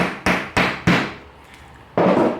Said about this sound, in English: I'm just going to tap it down with a hammer